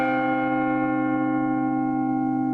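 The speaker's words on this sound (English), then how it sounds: "We did hear the bell." A sustained bell tone, rich in steady overtones, rings continuously and slowly decays, played back through shared computer audio with no talking over it.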